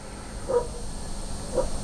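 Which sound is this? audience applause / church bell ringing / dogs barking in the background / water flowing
dogs barking in the background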